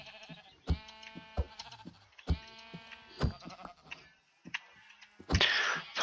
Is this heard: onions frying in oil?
no